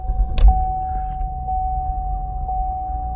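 A GM car's ignition switched on: a brief click, then a steady electronic tone with a soft chime pulsing about once per second over a low interior rumble.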